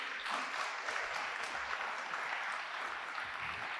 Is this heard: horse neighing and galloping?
no